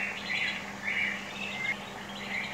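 Birds chirp in the Bird Land Paradise video game, soft repeated tweets in short bursts against a quiet steady hum.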